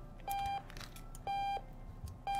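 An alarm clock in the video game odad beeps in three evenly spaced, steady electronic tones, each about a third of a second long, loud and clear with no talk.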